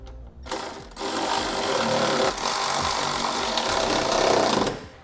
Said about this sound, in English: Now we'll use a 17mm socket to tighten our hardware.